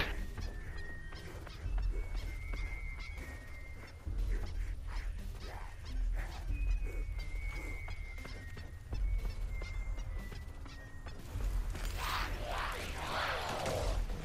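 Dog barks in a multiplayer shooter video game, a few repeated yelps and woofs mixed with game effects and beeping tones, moderately loud over steady game background noise.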